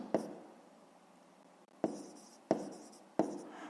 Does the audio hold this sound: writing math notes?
yes